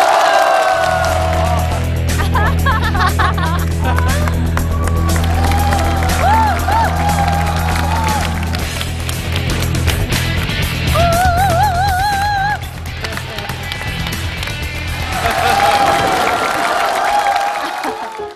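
Studio audience applauding and cheering as the host of the CCTV talent show Yue Zhan Yue Yong walks on stage, a loud sustained wash of clapping over steady stage music, with bursts of whooping.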